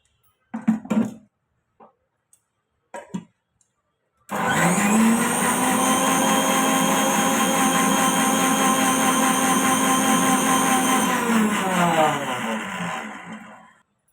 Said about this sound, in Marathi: याला झाकण असं लावून ते काही सेकंद मिक्सरला लावून फिरवून घेऊया